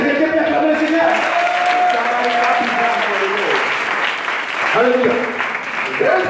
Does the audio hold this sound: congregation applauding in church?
yes